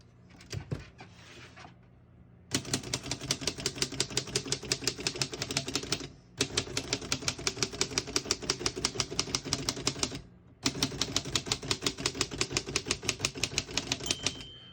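Rapid, steady keystrokes on a 1930 Royal Companion portable typewriter clatter in long bursts, with brief pauses between runs, close and crisp.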